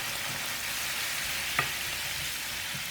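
Pork sizzles steadily in a pan with a balsamic vinegar and sherry sauce, an even, quiet frying hiss broken once midway by a short tap or clink.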